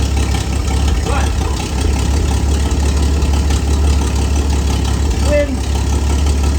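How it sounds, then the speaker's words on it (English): A 1959 Chevy Apache truck engine idles with a deep, steady rumble and a rough, puffing chatter from a major exhaust leak, close by, with a voice briefly speaking over it. "Got a major exhaust leak."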